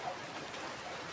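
Steady rain patters on a surface during a typhoon, a continuous soft hiss of drops with no voices.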